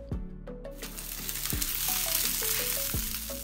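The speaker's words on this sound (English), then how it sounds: "placing it in a heated pan, adding some olive oil, and then just turn it on each side while you cook" Paneer lettuce parcels sizzle in olive oil in a heated pan, a close, steady frying hiss with soft clinks of a utensil turning them, and no speech.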